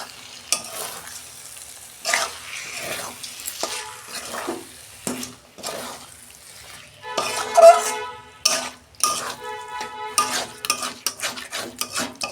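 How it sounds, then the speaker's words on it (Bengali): Fish is stirred in a cooking pan over a gas flame, with a string of close metal scrapes and clinks of a utensil against the pan over a steady sizzle, no talking. "মাছটা আমি একবারেই নাড়িয়ে দেবো"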